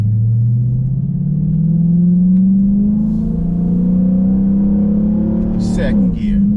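A Dodge 392 or Hellcat V8 revs in manual street mode, a loud, steady, climbing engine drone close by that holds and then drops briefly near the end, with no talk.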